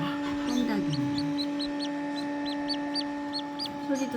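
Pheasant-chicken and serama chicks peep in a rapid run of short, high chirps over a steady low hum, with a brief voice near the start.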